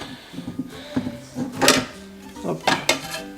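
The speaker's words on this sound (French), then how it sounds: "Voilà, c'est bon, la vaisselle y est vidée. Je vais pouvoir maintenant le remplir." Dishes are loaded into an emptied home dishwasher, giving a series of close, irregular clinks and clatters of plates and cutlery with soft knocks of the rack in between.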